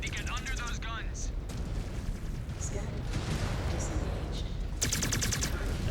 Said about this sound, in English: We have artillery impacts hitting the ground.